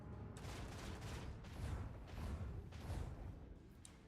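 Ship weapons firing in the space combat of the video game Rogue Trader, a series of heavy booming shots every second or so over a rumbling bed, fairly quiet overall.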